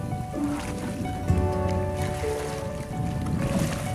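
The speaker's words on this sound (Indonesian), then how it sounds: "ada mesin pompa air yang buat mengisi petakan tambak menggunakan mesin pompa biar petakannya nggak kering" A water pump engine drones steadily as it fills a shrimp pond, a continuous motor hum with tonal harmonics and a rhythmic low chug, heard throughout alongside outdoor wind and water noise.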